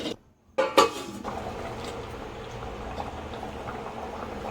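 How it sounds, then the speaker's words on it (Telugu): Lentils (dal) boil in a covered pot: a brief clank of the lid is followed by steady, soft bubbling and simmering, close but fairly quiet, with no voices. "పప్పు ఉడికే వరకు ఒక 10 మినిట్స్ మూత పెట్టి పెట్టుకోవాలి"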